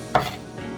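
A sharp knife chops through cabbage with a single crisp, close crunching cut onto a board, followed by a faint softer knock.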